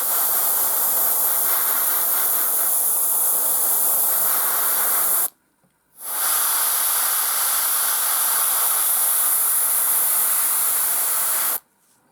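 An airbrush sprays paint onto a desert-themed miniature base, a loud steady hiss that runs for about five seconds, breaks off briefly, then resumes for another six seconds before a second brief stop.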